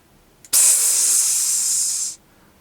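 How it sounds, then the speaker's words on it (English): A small canister sprays out a thick cloud of oily fog: a sharp tick, then a loud, steady hiss lasting about a second and a half before cutting off abruptly, alone and close. "A small canister suddenly landed at the base of the tree, spraying out a thick cloud of oily fog."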